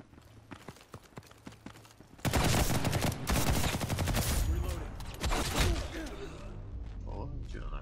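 Dense rapid gunfire bursts in the Ghost in the Shell video game, loud and sustained after a quieter opening of scattered shots, with a player's voice talking over the action.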